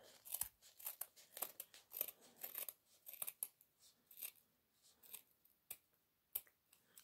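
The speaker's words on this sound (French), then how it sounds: "on prend un ciseau et hop, on coupe." Scissors snip through paper during a jute twine box craft, a close, quiet series of sharp, irregular cuts and crisp rustles spread across several seconds.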